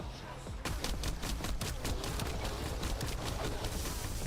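Heavy gunfire in The First Descendant rattles in a rapid, steady string of evenly spaced shots, close and continuous for several seconds with little else heard.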